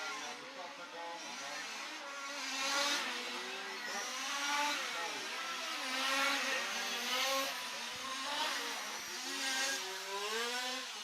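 Large-scale RC touring cars race at a European championship finals day, their engines whining in rising and falling waves as they pass, heard under a commentator's voice.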